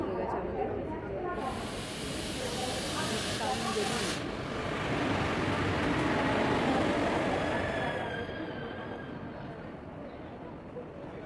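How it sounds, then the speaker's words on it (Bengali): A train pulls into a station, its rolling roar swelling to a peak midway and then easing off, with a thin metallic squeal near the end and faint background voices. "ট্রেন ঢুকছে"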